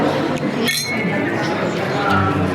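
Glasses clink together in a brunch toast in Seville, a bright brief chime standing out over lively café chatter and background voices.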